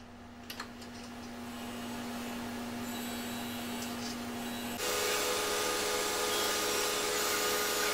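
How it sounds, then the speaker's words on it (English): High-speed steel being cleaned up with mounted points on a rotary tool, a steady high whine and hiss running throughout and growing louder partway through, with no talk. "then we're just cleaning it up with the mounted points"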